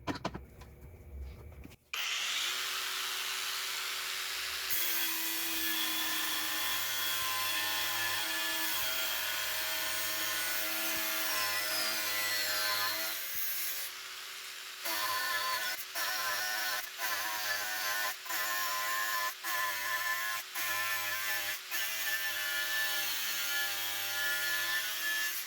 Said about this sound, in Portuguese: Para esses cortes de parafuso de aço normal e aço inox medida M8, não teve nenhum problema utilizando o disco de 115 mm